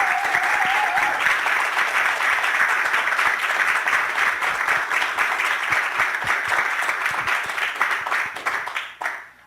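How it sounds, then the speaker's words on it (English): A crowd claps for the finalists of the UT Austin 2018 Three Minute Thesis contest, sustained, even applause from a full room lasting around nine seconds and thinning out at the end. "let's just give all of our contestants a round of applause"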